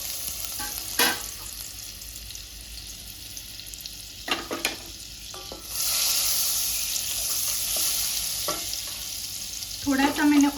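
Butter sizzling and frying in a pan at the start of a white sauce, a steady close hiss with brief stirring clatter and a louder burst of sizzle midway, no talk.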